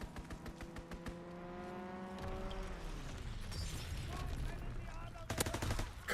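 Gunfire rattles from a fighter pilot's strafing run in Call of Duty WW2, with rapid bursts and booms layered over engine drone and game noise, growing denser and louder toward the end.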